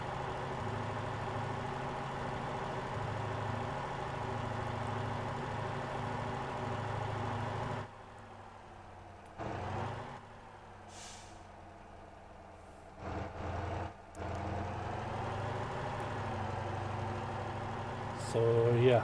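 Bus engine idling in the driving game Motor Town, a steady low drone with layered harmonics that drops away briefly a few times, then returns, running loud and continuous for most of the stretch.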